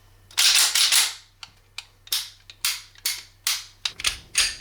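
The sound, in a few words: dry-fire trigger pulls on Glock 30 pistol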